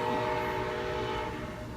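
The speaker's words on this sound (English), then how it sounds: "If it ain't a goddamn airplane, it's a train." A train passes near a bus home build site, its steady rumble and rail noise filling the air, with a sustained horn tone running through it.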